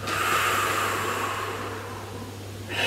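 A long, breathy exhale during a Pilates exercise, a close, airy rush that fades gradually, followed by the start of a fresh breath.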